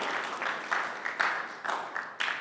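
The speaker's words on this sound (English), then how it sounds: "So a round of applause for every single of you guys." Audience applause at a pre-event press conference for a fighting championship, steady mid-level clapping from a crowd that carries on throughout, with a few sharper swells.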